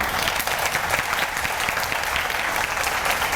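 Dense, continuous applause from a large crowd at a Montessori teacher-training session, steady and loud throughout with no pauses.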